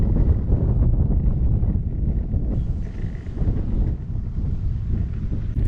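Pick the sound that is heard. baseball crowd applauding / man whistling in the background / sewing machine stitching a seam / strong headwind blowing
strong headwind blowing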